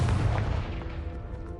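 A Confringo blast spell from the Hogwarts Legacy game bursts out as a single loud, booming explosion that rolls off into a decaying rumble, heard alone.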